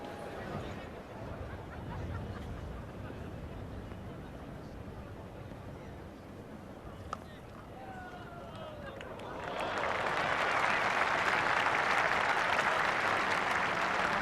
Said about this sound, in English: crowd, if not quite giving a standing ovation, almost to that extent, as local boy comes on to bowl